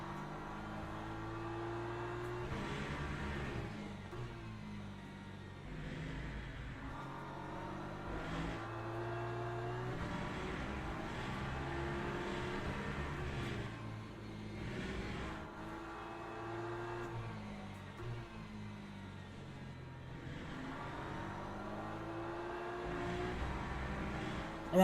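A Porsche race car engine in Le Mans Ultimate drones loud and near for the whole stretch, its pitch rising through the gears and dipping on shifts in repeated waves, alone without voices.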